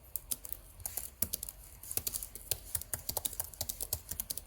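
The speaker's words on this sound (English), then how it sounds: "Now let's compare it quickly to typing on the Razer." Fast typing on a Razer laptop keyboard, a steady run of close, crisp key clicks and taps with uneven rhythm and no talking.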